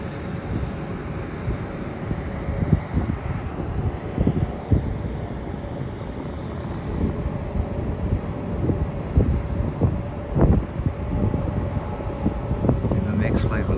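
A Qantas Link Embraer 190AR airliner roars past at an airport after touchdown, a broad, loud rumble with wind buffeting the microphone and a voice speaking over it.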